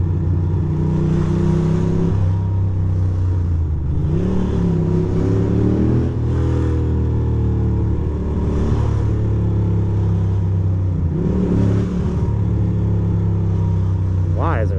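Heavy New York City street traffic surrounds a Ducati motorcycle, with loud nearby engines idling and repeatedly revving in rising and falling pulls, and voices heard faintly in the mix.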